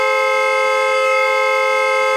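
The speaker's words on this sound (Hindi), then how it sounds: "नॉन स्टॉप हॉर्न बजा रहा है।" A car horn blares non-stop as one loud, steady, unbroken tone with no pauses and no voices over it.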